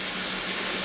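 Jackfruit "meat" frying in a pan with Worcestershire sauce gives a steady, close, fairly loud sizzle and hiss throughout, with a faint clink near the end.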